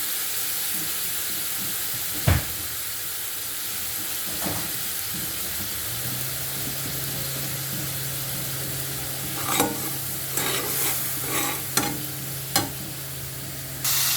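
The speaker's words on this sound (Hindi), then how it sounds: "मैंने भूनने डाल दिया और इसमें अदरक लहसुन का पेस्ट डाल देते हैं" Ginger garlic paste fries and is stirred in a pan while cooking besani chole masala, giving a steady sizzle with a low hum and several sharp clinks and scrapes of the spoon toward the end.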